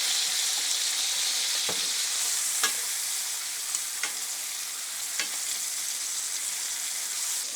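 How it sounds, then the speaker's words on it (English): Steak sears in a hot cast iron pan, its fat rendering in a loud, steady sizzle that fills the whole stretch, with a few brief clicks and scrapes of utensils against the pan. "while we're searing the bottom and trying to get this fat to cook up right here"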